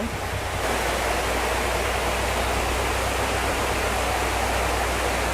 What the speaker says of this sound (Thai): เดินไปอีกนิดนึงนะคะ ก็จะเป็นน้ำตกเลยค่ะทุกคนค่ะนี่เลย